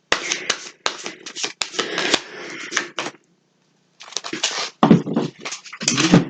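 Tarot cards handled close up to pull a card: bursts of crisp riffling and slapping in quick clusters, a short silent pause, then more shuffling and card snaps.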